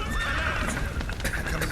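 A horse in The Witcher 3 whinnies loudly close by, a shrill wavering neigh over clip-clopping hooves and a low rumbling backdrop, all within under two seconds.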